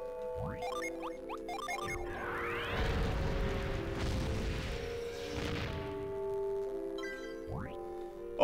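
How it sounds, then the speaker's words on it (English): Enemy blowing up after a fire attack in Golden Sun Dark Dawn: a booming burst with swishing and crashing texture, swelling over several seconds beneath a steady layer of game music. "you hit it with fire and it just explodes"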